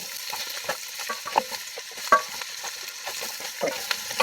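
Honey nut mixture cooking in a hot pan: a continuous soft sizzle scattered with small pops and crackles at close range.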